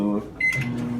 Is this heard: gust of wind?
no